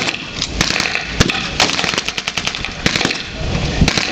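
Rapid loud gunfire from a 37 mm gun firing canister shot during a WW2 battle re-enactment at an air show, with sharp repeated bursts over continuous engine rumble.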